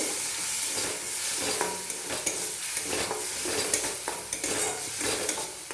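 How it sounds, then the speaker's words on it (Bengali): Spice paste sautés in a pan for egg malai curry with a constant sizzle and frequent sharp clinks of a spatula stirring against the metal, close up. "মশলার বাটিটা একটু ধুয়ে আমি দিয়ে দেব, দিয়ে একটু কষিয়ে নেব"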